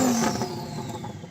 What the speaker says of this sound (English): I'm going to rev up this Lambo